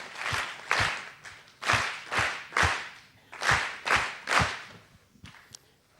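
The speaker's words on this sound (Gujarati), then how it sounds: "સમગ્ર ભક્તિવૃંદનું 3 તાળીઓથી અભિવાદન કરીશું" A group of devotees claps in unison at a devotional gathering, sharp hand claps landing in loose sets with short gaps between them, close and fairly quiet.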